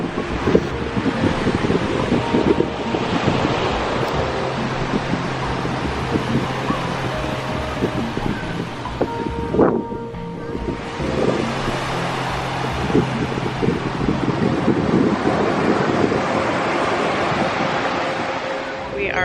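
Waves and strong wind at Playa La Ropa beach in Zihuatanejo form a continuous, loud wash of roaring noise with buffeting gusts, and people talk over it.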